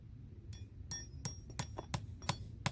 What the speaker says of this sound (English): Drive a nail.